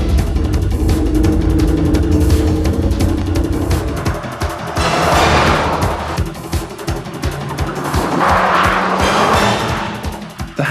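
A Honda NSX sports car drives hard, its engine roaring steadily while the tyres squeal in two drawn-out swells. The sound is loud and fairly close, with no talking.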